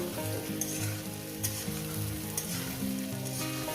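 Ginger and spice paste sizzles steadily in a hot pan, a continuous close frying hiss with faint stirring scrapes and no voices.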